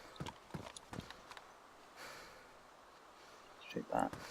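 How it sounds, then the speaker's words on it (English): Footsteps in the video game DayZ, heard as a few soft irregular thuds with a clip-clop quality, fairly close, followed by a louder burst near the end. "The sounds of footsteps in this game are very odd."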